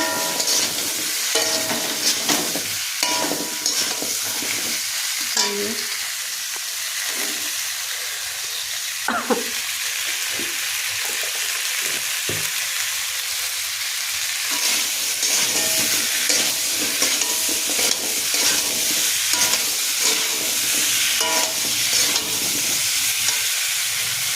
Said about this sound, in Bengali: মশলাটা ভালো করে তেলে ভেজে নেবো, কষে নেবো।